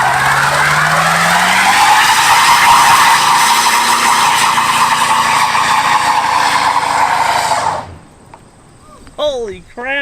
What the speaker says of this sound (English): this is a good spot to see if it'll do a burnout though